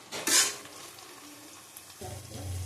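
Spices with Kashmiri chili powder being sautéed and stirred in a pan: an early loud scrape of the spoon, a low sizzle, then renewed stirring clatter near the end, close up and without talk.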